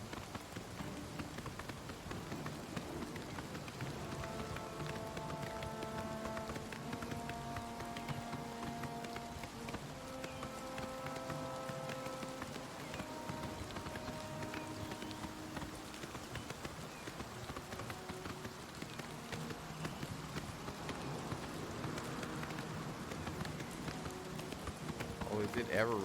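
Steady rain hisses through The Elder Scrolls Online as a horse's hooves clip-clop along, with in-game music tones drifting over the constant wash.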